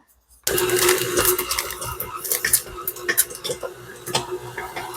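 Stand mixer kneading soft butter pats into brioche dough, a steady loud motor whir with irregular clicking and slapping of dough against the bowl, starting abruptly after a brief silence.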